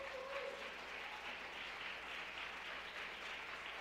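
A church congregation applauds during a Sunday service to congratulate a member on his upcoming wedding, steady dense clapping filling the room throughout.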